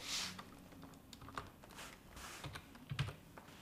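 Keys clatter on a computer keyboard in quick, irregular bursts of taps, close and fairly quiet, with no voice over them.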